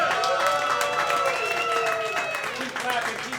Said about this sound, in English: Keep clapping, keep clapping, keep clapping, keep clapping, enthusiasm.